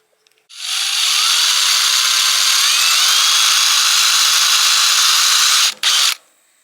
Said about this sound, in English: get the old hot drill out again.